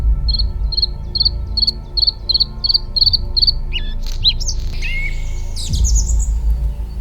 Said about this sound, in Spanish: el canto de los pájaros se mezclaba con la suave brisa